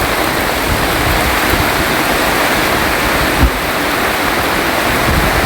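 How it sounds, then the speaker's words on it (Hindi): Heavy rain with strong wind in Goa: a dense, steady roar of pouring water and gusting air, loud and unbroken throughout, with no talking. "इतनी तेज़ हवा चल रही है और बारिश हो रही है।"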